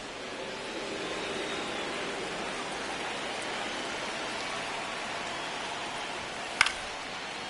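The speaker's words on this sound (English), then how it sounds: "the field's not going to be able to hold up if the rain gets any worse than this" Heavy rain falls on a baseball field during a Mets versus Cardinals game, a steady dense hiss throughout with one brief sharp tap near the end, no talk over it.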